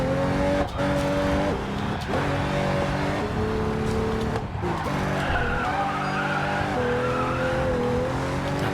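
A Pagani Huayra BC '17 in the racing game Racing Master corners with its rear end sliding out, tires squealing loudly and steadily over a droning engine note that rises and falls through the turn.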